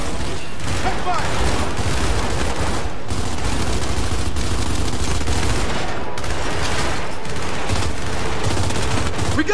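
Heavy, continuous gunfire and rapid bursts from the shooter Gears 5 during co-op combat. The dense volleys stay loud and unbroken, with occasional heavier booms mixed in.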